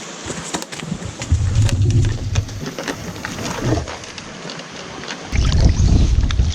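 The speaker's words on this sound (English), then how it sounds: "A little bit breezy, eh, Monty?" Breezy wind gusting outdoors on a wilderness lake trip, a loud steady rush with low rumbling buffets that swell and ease, strongest near the start and again toward the end, with no talking.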